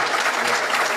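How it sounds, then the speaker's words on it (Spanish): Audience at a panel event on digital security solutions bursting into loud, dense applause from many hands, a continuous close wash of clapping with no talk. "Fuerte los aplausos."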